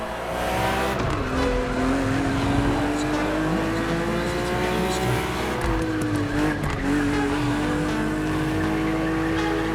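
A BMW race car drives on a racetrack in The Crew Motorfest video game, its engine droning loud and steady with shifting pitch and tires squealing through corners, with a faint voice under it.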